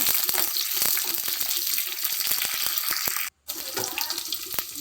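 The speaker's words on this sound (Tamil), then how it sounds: "அஞ்சு பச்சை மிளகாயை சேர்த்து வதக்கிக்கலாம்" Garlic and green chillies sauté in oil in a pan, crackling and sizzling steadily with scattered sharp pops and stirring, close and moderately loud, broken by a brief silent gap.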